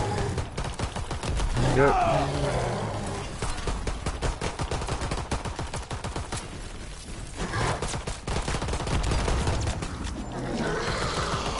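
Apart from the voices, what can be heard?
gunfire from a video game (The Shadowed Throne)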